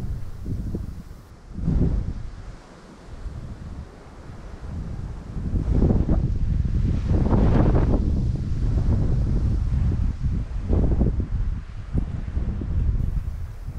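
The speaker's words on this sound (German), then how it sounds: "Der immer stärker werdende Wind machte das gar nicht so einfach." Strong gusting wind on a mountain trail in the Velebit range above the Adriatic, roaring loudly into the microphone in long, surging buffets with brief lulls and no voices.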